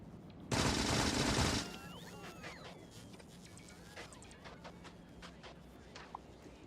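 A loud burst of rapid automatic gunfire from Factorio on Vulcanus runs about a second, then cuts off. After it come softer scattered clanks and faint mechanical background noise.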